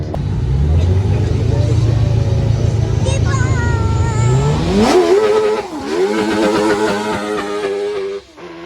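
Renault Clio RS race car, number 19, launching from the start of a slalom at Gisors: a loud engine roar climbs sharply in revs through the gears, close by, while an announcer talks over it.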